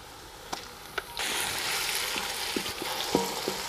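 Garlic and ginger paste hits a pan of lightly browned onions for a village-style fish curry, bursting into a loud, steady sizzle after a couple of clicks, with stirring scrapes and taps over the frying.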